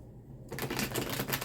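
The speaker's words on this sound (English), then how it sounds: "so let's do one more shuffle" A brief, quick riffle of tarot cards being shuffled close by, a crisp rapid fluttering that starts after a moment of quiet.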